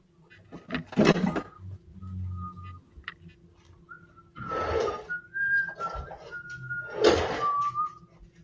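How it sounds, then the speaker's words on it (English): A person whistles a short, wavering tune in a home kitchen, with a few sustained notes amid knocks and clatter of cooking and cutting chicken, moderately close. "Is that really the song you were just whistling?"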